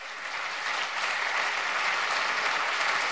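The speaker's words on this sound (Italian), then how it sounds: "Un grande applauso al cavaliere Boselli, benvenuto." Audience applause welcoming a speaker on stage at a Milan event, a steady, even roar of many hands clapping that swells slightly after the first second and keeps going without any voices.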